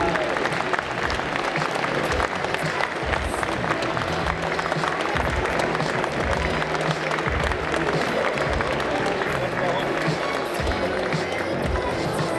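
Large audience at a French convention, Necronomi'con 2023, applauding cosplay performers on stage: loud, dense, sustained clapping that fills the whole stretch without letting up.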